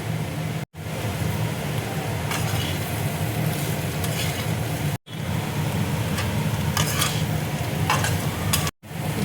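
Potatoes fry with red chilli powder, amchur and cumin in a pan for jeera aloo, a steady close sizzle with scraping stirs, broken by two short gaps of silence.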